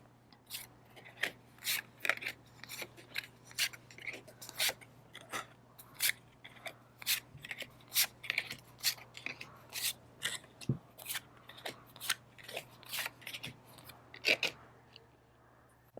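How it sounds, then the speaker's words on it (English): Tarot cards pulled one after another from the bottom of a deck make a run of crisp, close snaps and brushing slides in an irregular rhythm over a steady low hum, with no talking. "let's pull out these cards from the bottom of the deck."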